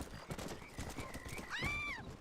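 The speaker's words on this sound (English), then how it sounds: "This stupid horse just ran right full speed into the bloody water." A horse in a PS4 western game set around Armadillo whinnies with a rising, wavering call while its hooves clip-clop beneath, fairly close and steady throughout, with no talk.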